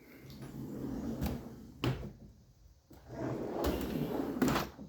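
Tool drawer on metal drawer slides in a home workshop, opened and closed several times; a few distinct sliding rumbles and knocks, fairly quiet, with pauses between them and no talking.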